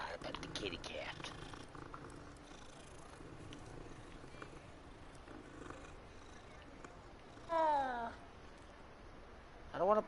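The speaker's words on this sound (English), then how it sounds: "Gotta pet the kitty cat." A cat in a video game purrs quietly, a soft rumbling under a low hum, broken by two brief, louder meow-like cries near the end.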